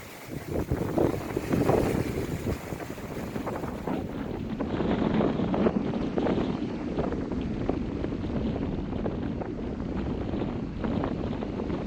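Strong gale force wind buffeting a sailboat at sea, a loud continuous roaring rush with gusty surges and heavy wind noise on the microphone, lasting the whole stretch with no one talking.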